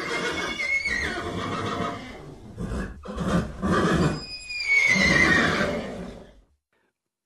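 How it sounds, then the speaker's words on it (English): Horses neighing and whinnying in a farm setting, several shrill, wavering calls in bursts separated by brief gaps, loud and close, ending in silence. "There are 30 horses."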